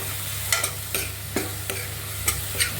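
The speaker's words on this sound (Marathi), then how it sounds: "एकदा अजून परतून घ्यायचं." Tomato stir-fried in a pan for dal bhaji, with a soft background sizzle under a low steady hum and a handful of sharp scraping stirs from a spatula against the pan.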